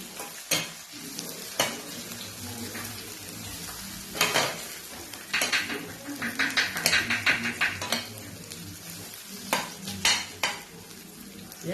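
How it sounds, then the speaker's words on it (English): Roasted eggplant and chili frying in a pan, soft sizzling beneath bursts of spatula scraping and clinking against the pan, busiest in the middle, close by and without talk. "Let it fry."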